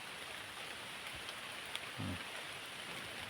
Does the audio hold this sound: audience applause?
no